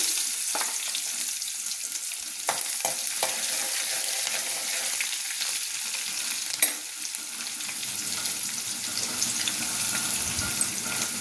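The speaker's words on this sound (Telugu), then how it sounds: "ఇప్పుడు వచ్చేసి ఉల్లిపాయ ముక్కలు కూడా యాడ్ చేద్దాము" Chopped onion pieces sizzle in a hot pan with oil, a continuous bright crackle broken by a few clinks and scrapes of stirring.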